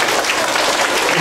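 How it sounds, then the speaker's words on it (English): A burst of lively applause from children at an elementary school assembly, dense and close, many hands clapping at once. "Give us a round of applause, guys."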